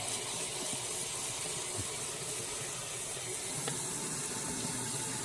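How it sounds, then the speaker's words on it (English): Hot water poured slowly into sifted flour for smothered pork chop gravy, a steady close hiss and trickle of running water with no talk. "I'm going to add my water slowly because I want to stir out any lumps."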